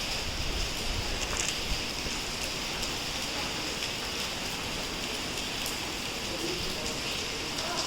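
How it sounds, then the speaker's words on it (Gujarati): Heavy monsoon rain pours down as a dense, continuous hiss of falling water. It stays steady and fairly loud throughout, with occasional brief patters rising above it. "મસ્ત વરસાદ આવી રહ્યો છે તારે"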